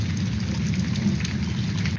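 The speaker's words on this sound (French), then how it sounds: "3 jours de pluie, de grêle," A rain sound effect, a continuous dense patter of heavy rainfall with a low rumbling body, steady and fairly loud for two seconds before cutting off.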